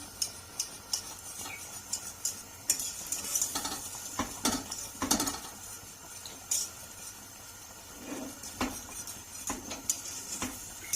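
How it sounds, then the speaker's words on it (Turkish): Halva muhallebi pudding stirred in a pot, a spoon scraping and clinking in irregular strokes with soft sizzling beneath, close and fairly quiet, with no voices. "Karıştırıyorum şöyle."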